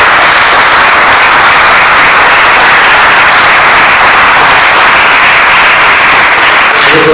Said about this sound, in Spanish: Muchas gracias y un aplauso.